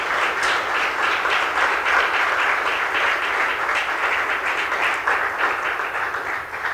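A church congregation breaks into strong, sustained applause for a male leader, dense clapping filling the room steadily throughout without speech.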